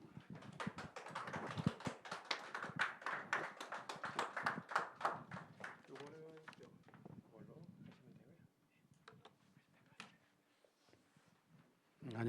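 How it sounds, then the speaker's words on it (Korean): Audience applause welcoming a professor to a real estate lecture: dense, loud clapping from a crowd for about six seconds, fading into someone speaking alone. "교수님 앞에 모실 때 큰 박수 부탁드리겠습니다"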